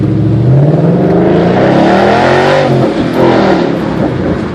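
A 2011 Mustang GT California Special with a Roush exhaust revs hard, its loud, rough V8 note climbing and falling through a few sustained throttle blips, close by and alone with no talking.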